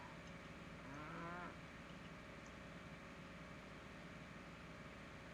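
Cattle moo once in the Professional Farmer farming video game, a single drawn-out low call rising and bending, moderately close over a steady hiss of background noise, with no talk.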